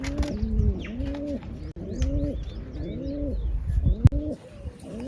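Pigeons coo in a pigeon setup, with several rolling coos repeating close to the microphone in a steady rhythm and light chirps scattered above them.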